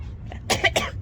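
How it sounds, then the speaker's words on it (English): A short burst of coughing, two or three quick rough coughs close by, over a low background hum. "Cough, cough."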